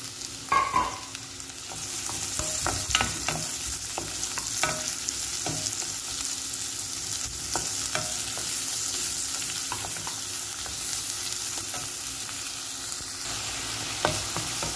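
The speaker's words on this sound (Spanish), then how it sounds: "Ahora le vamos a poner el ajo. Le vamos a poner la cebolla" Garlic and onion fry in a hot pan with a steady broadband sizzle, punctuated by scattered clicks and stirring scrapes of a utensil, fairly close and with no talking.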